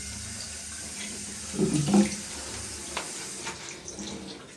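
Water runs from a leaking sink drain connected to a toilet line in a home, a steady close rushing flow with a brief louder gurgling splash in the middle.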